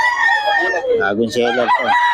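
A young rooster, a stag, crows loudly and close at an outdoor market, one strained crow spanning the clip while someone talks over it.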